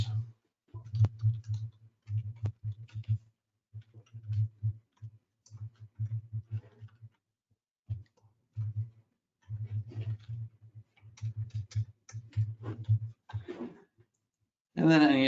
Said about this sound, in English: I type in our address.